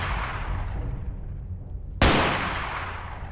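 Gunfire in the video game Fallout 4: low rumbling game ambience, then one sharp, loud shot at close range that rings out and decays slowly, with no talk over it.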